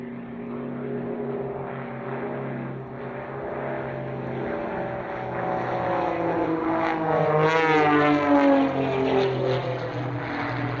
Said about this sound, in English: the Edge 540 is the main aircraft used in the Air Race World Championships